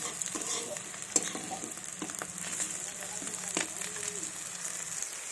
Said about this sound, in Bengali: দিয়ে সবগুলোকে একসাথে লাল লাল করে আরেকটু ভেজে নেব।